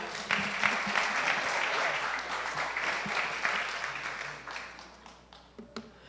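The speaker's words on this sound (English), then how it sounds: "So please give him a round of applause." The congregation at New Jersey Family Church claps in a warm round of applause during a youth service, many hands together at close range, strong at first and then tapering off into a few last claps.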